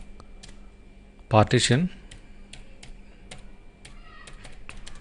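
Keys clatter on a computer keyboard in quick, light clicks scattered across a few seconds as a command is typed, with one short spoken word partway through.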